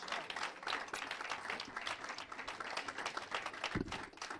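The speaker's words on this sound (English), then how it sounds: "I just want to give St. Paul a big round of applause for showing leadership" Audience at a Kwanzaa awards ceremony applauds for St. Paul, a dense round of clapping from many hands, even and sustained for several seconds at moderate distance.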